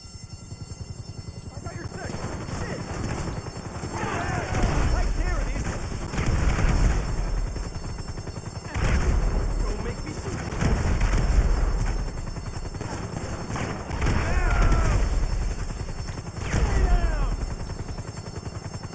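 Grenade blasts and gunfire during a GTA 5 Online heist shootout, with repeated loud bursts of blasts and shots swelling and fading in waves over a steady game background, voices talking over the action.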